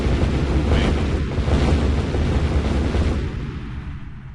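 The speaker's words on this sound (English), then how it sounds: "I really do love those exploding sounds" Deep rumbling explosion bursts from Minesweeper on Windows 7 roll out loud and sustained, with a heavy low boom that slowly fades toward the end.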